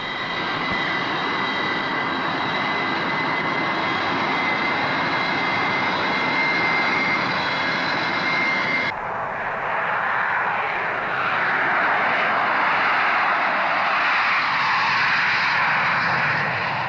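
A jet airplane roars steadily overhead, a loud, continuous rushing whine whose tone shifts and broadens midway as it passes, with no voices.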